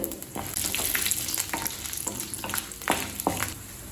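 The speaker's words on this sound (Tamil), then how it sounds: "இப்போ உளுந்த பருப்பையும் கடலை பருப்பையும் நல்ல கலர் மாறுற வரைக்கும் வறுத்துக்கலாம்" Urad dal, chana dal and garlic roast in a pan for onion chutney, giving a steady close sizzle broken by sharp scraping stirs of a spatula at irregular intervals.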